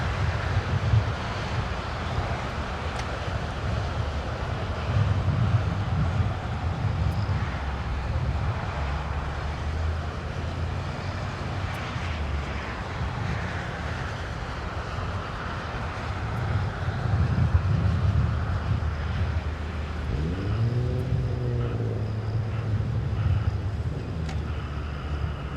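A jet aircraft taxis at LAX airport, its engine noise forming a distant, continuous low rumble mixed with wind across the microphone. A faint rising and falling tone appears near the end.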